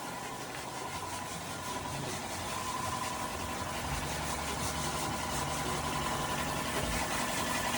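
A reconditioned Suzuki DE63 engine idles in a steady, even drone with a faint rhythmic knock, close by and continuous throughout.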